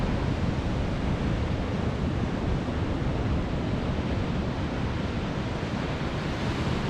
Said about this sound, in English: The size of these waves out here is just incredible.